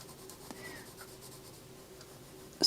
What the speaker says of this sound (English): So I'm colouring on the side of the pencil